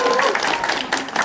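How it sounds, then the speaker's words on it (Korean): Wedding guests applauding at a Korean wedding ceremony, a brief burst of moderate clapping from a modest crowd, heard briefly. "박수 한 번만 쳐주세요."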